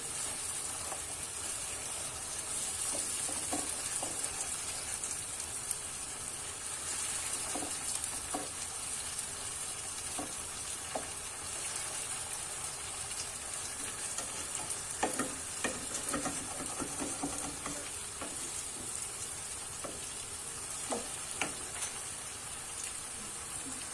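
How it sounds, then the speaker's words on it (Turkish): Onions sautéing with tomato paste in a pan, a steady low sizzle with occasional scrapes and taps from stirring, fairly soft and continuous. "Salçayla da soğanımızı kavuralım"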